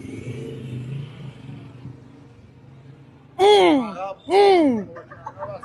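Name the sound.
engine revving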